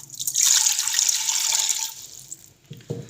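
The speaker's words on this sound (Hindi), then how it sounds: "इसके अंदर हम 1 गिलास पानी डालेंगे" Water from a glass pours into a pressure cooker in one bright, splashing stream that fades out, followed by a brief knock of the vessel.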